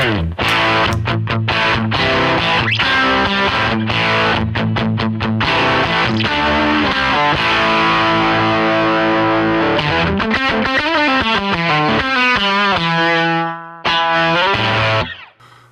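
A guitar runs through a Keeley-modded Boss DS1 distortion pedal with the gain at about halfway, playing loud, gritty riffs and ringing chords that slide into sustained notes before a brief dip and final strum.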